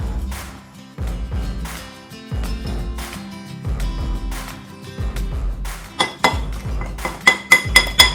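A spoon clinks steadily against the inside of a glass, stirring a dalgona coffee mixture with cold water in a repeated rhythm, then quickens into faster, brighter taps near the end.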